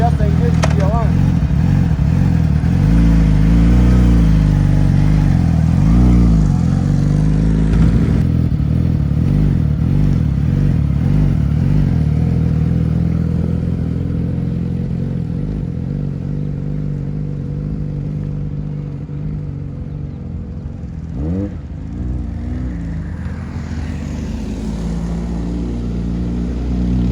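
A motorcycle idles and then pulls away in first gear, a loud, close engine rumble that rises and falls with revving before settling.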